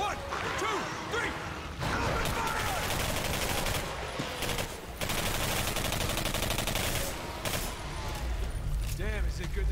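Rapid, sustained automatic gunfire in the video game Singularity, bursts rattling almost continuously across the clip amid shouted voices and battle noise.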